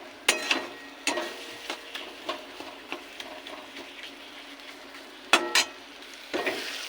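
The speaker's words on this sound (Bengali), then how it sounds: "এটা আরও ভাজা হবে।" Mankochu (giant taro) paste fries in a wok while a spatula stirs and scrapes it in close, irregular strokes over a soft, low sizzle, with no talking.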